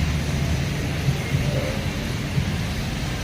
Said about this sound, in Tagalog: So, lakas ng ulan.